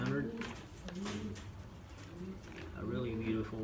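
Racing pigeons in a breeder loft coo softly in repeated low, rolling calls, with someone talking over them throughout.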